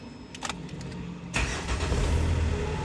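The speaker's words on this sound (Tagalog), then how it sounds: "So start natin yung sasakyan." A Mitsubishi Montero, fitted with a new EGR valve and motor after a turbo failure, cranks briefly and then catches into a steady low idle, heard close with no talking.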